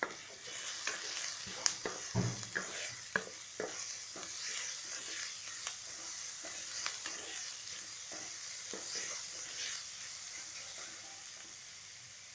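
Grated carrot fries with onions in a pan, a soft steady sizzle broken by irregular scraping and stirring clatter from a spatula, close and with no voices.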